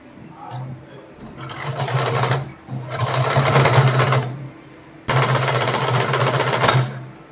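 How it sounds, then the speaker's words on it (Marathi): A sewing machine stitches a border strip onto a saree in three loud bursts of rapid, buzzing stitching separated by short pauses, close by. "असे पण याच्यावरती शिलाई करून घेणार आहोत"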